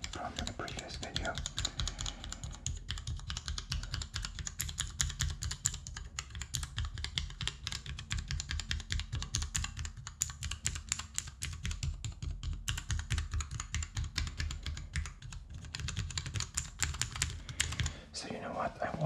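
Rapid, continuous clicking and clacking of mechanical keyboard switches being typed on in a keyboard tester, steady and close with dense keystrokes throughout and no talking.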